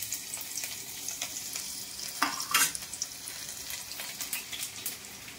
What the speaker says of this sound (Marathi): भाजी फोडणी देऊया आपण आता.